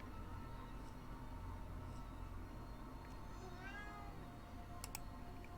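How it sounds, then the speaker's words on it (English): House cats meow and yowl in a room during a Graveyard Keeper game stream, a few faint, distant rising cries under a steady, quiet game ambience. "I apologize in advance if you can hear the cats."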